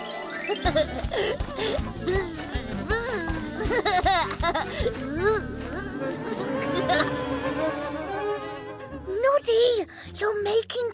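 Cartoon bees buzzing in a toy-town animated scene, a busy whining drone with wavering tones under children's cartoon voices and music, fairly close and steady throughout.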